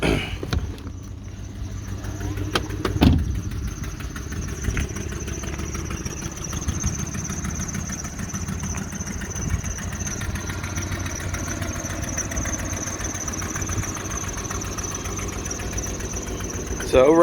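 A 2010 Ford F150 pickup with a small exhaust leak idles steadily at close range after a clunk near the start, a low, even engine drone with a faint ticking pulse throughout.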